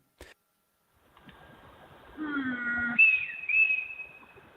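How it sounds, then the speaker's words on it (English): Faint mysterious whistling caught on a home camera: a low hum rises under a few thin high whistled tones that slide and hold near the end, quiet and alone. "I hear a whistle and a hum or something."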